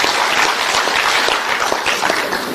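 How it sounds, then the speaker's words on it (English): Dense, steady applause from a large audience at an ANC NEC Lekgotla closing address, honoring liberation war veterans; close and loud throughout, with no voices over it. "let's give them a round of applause for that"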